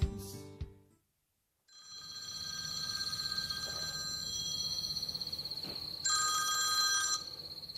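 A telephone ringing at night, a steady electronic ring that starts after a brief burst of other sound and a short gap, then continues for several seconds at moderate level, growing louder near the end.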